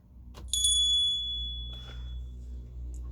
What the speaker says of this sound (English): That was the sound of the doorbell